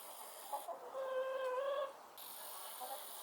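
A chicken clucks in a drawn-out, rising call lasting about a second, close by, with soft outdoor background noise around it.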